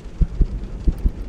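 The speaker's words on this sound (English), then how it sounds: "How fast your heart beat." A heartbeat in the horror game The Joy of Creation thumps as low, muffled double beats, about four soft pulses in quick succession over a faint hum.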